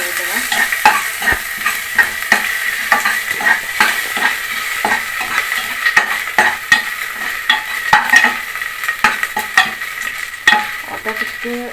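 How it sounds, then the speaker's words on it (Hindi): Crushed ginger fried in a pan and stirred with a spoon, a close, loud sizzle punctuated by regular scraping and tapping strokes of the spoon against the metal, with no talking. "एबे ताको चामच से पकेଇବା।"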